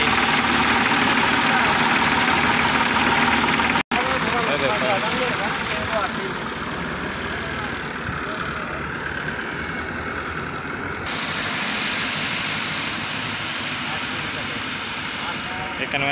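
A tractor engine runs in a potato field during planting, a loud, steady droning rumble close by that continues throughout with little change, while someone talks over it.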